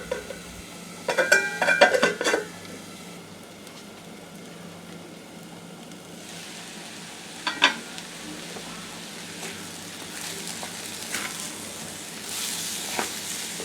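Jackfruit seed and coconut stir-fry cooking on a medium flame, a soft steady sizzle with a few louder clinks and scrapes of a utensil against the pan near the start and middle.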